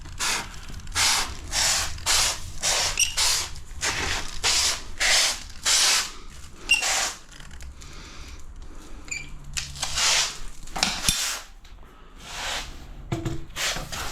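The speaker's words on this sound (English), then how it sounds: "Right, other gun with my white. And zap my white." Caulking gun being used to dispense white silicone, a series of sharp ratcheting clicks and hissy spurts in uneven bursts, fairly close, with pauses between squeezes.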